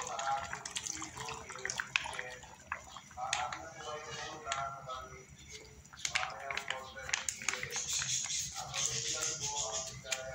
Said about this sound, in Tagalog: Tapos lalagyan natin panyero itong gata.